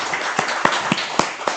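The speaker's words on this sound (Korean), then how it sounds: "박수로 환영해 주시기 바랍니다." Scattered audience clapping at a National Assembly policy forum in Korea, a few distinct sharp claps spaced over a soft background hiss, sparse rather than full applause.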